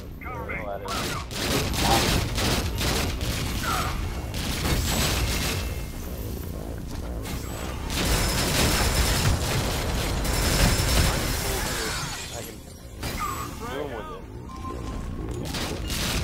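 Shotgun and crossbow fire in the video game Fuse, dense bursts of gunfire and booms running almost continuously, with players talking over the shooting throughout.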